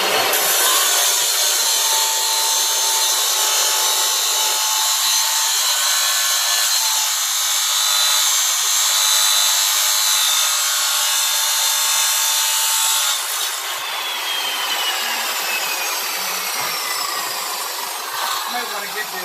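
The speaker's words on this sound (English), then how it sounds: "So we're going to lower our saw right to where it needs to be, which is right there." A power saw makes cuts for camp tables, sending up sparks. A loud, continuous grinding whine holds steady for about thirteen seconds, then drops to a lower, slightly quieter rasp through to the end.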